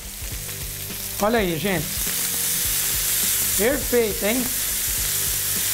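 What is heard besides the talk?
bananas frying in a pan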